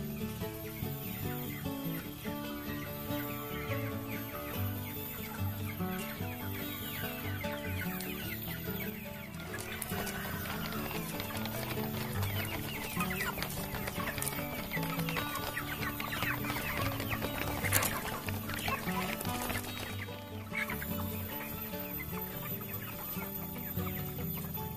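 Joper chickens cluck and chatter continuously inside a trap-system poultry coop, many birds calling at once at close range in a dense, busy layer with occasional louder squawks.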